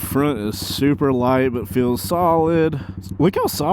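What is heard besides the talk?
None of the usual background noises is heard.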